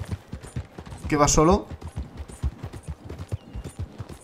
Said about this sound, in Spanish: Mira, ahí hay un caballo